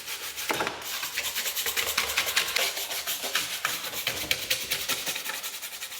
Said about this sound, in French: Et on finit avec la brosse